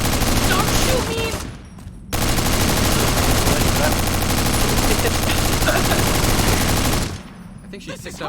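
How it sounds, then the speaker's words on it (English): Rapid automatic fire from a grenade machine gun in Fallout: New Vegas, a dense, loud, sustained burst running most of the stretch, with a brief lull early on and a drop-off near the end. "I think she picked up the grenade machine gun thing."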